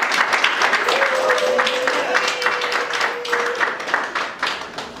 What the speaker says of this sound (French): qui soient applaudis par tout le monde.